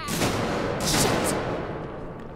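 Gunshot in Alien: Isolation on Nightmare mode: one sharp, loud crack with a bright metallic snap about a second in, set against a dense, noisy rumbling ambience that fades slightly afterward.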